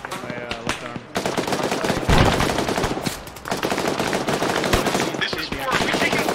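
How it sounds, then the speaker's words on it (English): Rapid automatic gunfire and bursts from an ARMA 3 military shooter battle, loud and continuous with overlapping shots throughout, voices faintly mixed in. "We're taking fire from the northwest."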